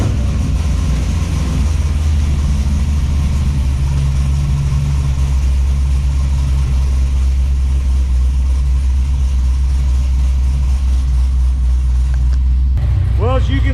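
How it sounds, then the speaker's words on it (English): A Corvette engine idles steadily with a low, constant rumble throughout, then briefly revs near the end. "let's go ahead and start the car up, get the temperature up"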